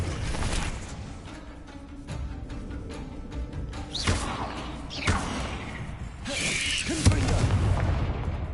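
A Bombarda blasting spell in Hogwarts Legacy sets off several dull booming thumps and blasts, each one short and punchy, over a low game background.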